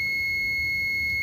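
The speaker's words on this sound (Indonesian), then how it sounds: "Buzzer udah aktif." An IoT temperature alarm buzzer sounds a steady, continuous high-pitched electronic tone, loud and unbroken throughout, with a faint low hum beneath it.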